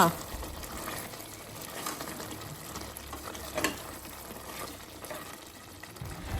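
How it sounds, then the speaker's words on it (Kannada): Country chicken pieces sauté with turmeric and salt in a pan, a close, wet sizzling and stirring texture with occasional scrapes and bursts, while a voice talks over it. "ಮಾಂಸ ಹಾಕ್ಕೊಂಡಿದ್ದೀನಿ ಕೋಳಿದು ಆಮೇಲೆ ಸ್ವಲ್ಪ ಚಿಟಿಕೆ ಏನದು ಅರಿಶಿನ ಆಮೇಲೆ ರುಚಿಗೆ ತಕ್ಕಷ್ಟು ಉಪ್ಪು ಇಷ್ಟನ್ನು ಹಾಕಿ ಚೆನ್ನಾಗಿ ಬಾಡಿಸ್ಬೇಕು ಒಗ್ಗರಣೆ ಮಾಡಬೇಕು"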